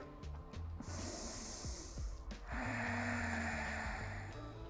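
A deep inhale during a neck-stretching exercise, heard close to the microphone as a brief breathy snort and a longer airy intake, quiet overall.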